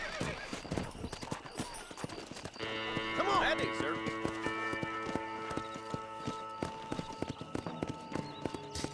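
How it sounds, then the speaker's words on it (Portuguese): Horse hooves clip-clop steadily in Red Dead Redemption, a quick regular beat that carries on throughout, with a whinny partway through and in-game music and a voice underneath. "Posso ir ter com ela de cavalo, em vez de ir a pé."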